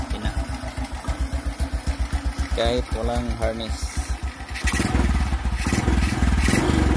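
A motorcycle engine idles with a steady rapid putter under a man's speech, then revs up into a louder, rougher, sustained roar toward the end.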